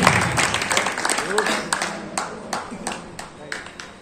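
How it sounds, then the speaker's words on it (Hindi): Scattered applause from a crowd at a Samajwadi Party workers' meeting in Kiratpur, a few uneven bursts of clapping with separate sharp claps, heard under and between someone speaking. "आपसे जोरदार तालियां से"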